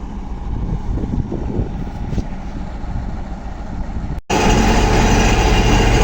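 A tractor drones steadily while ploughing a wheat field, close and loud with a constant engine rumble. The noise cuts out for a split second and returns louder and brighter.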